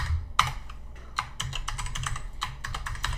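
Someone types a new admin password for a Cisco Firepower Management Center on a computer keyboard, producing close, crisp clusters of key clicks in quick irregular bursts.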